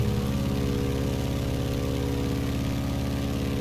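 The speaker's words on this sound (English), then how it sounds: "That big radial engine." A Stearman biplane's radial piston engine in a flight simulator game drones continuously at close range, its low rumble pulsing evenly with no voices over it.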